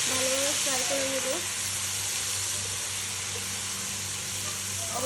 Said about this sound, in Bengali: আদা রসুন দিয়ে দিলাম পরিমাণ মতো। এটা এবার ভালোভাবে ফ্রাই করে নেব।